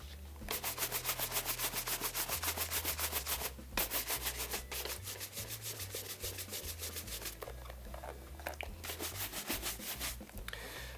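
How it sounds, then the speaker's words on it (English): Horsehair brush vigorously buffing heavily polished leather dress shoes, a steady run of fast, close back-and-forth bristle strokes in rhythmic bursts with brief pauses, loud and alone. "you'll want to buff quite vigorously and really, you know, 2 to 3 times longer than you would normally buff"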